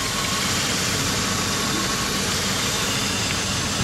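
A car engine idles steadily, a constant close mid-pitched rumble with no breaks, heard alone for a few seconds.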